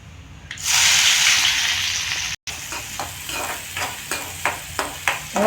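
Shallots frying in hot oil with popped mustard seeds and lentils, a loud steady sizzle that breaks briefly and then continues with rhythmic stirring scrapes.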